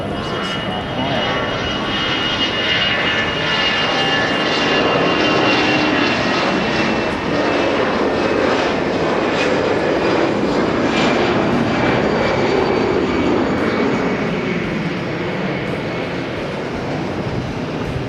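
Airliner jet engines at Haneda airport give a loud, sustained roar that stays steady and close throughout, with no pauses.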